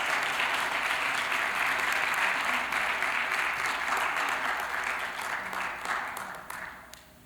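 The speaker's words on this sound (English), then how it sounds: "a big round of applause for Georgia" A big round of applause at a school district governing board meeting, steady dense clapping from a crowd that holds for several seconds and then gradually thins and fades.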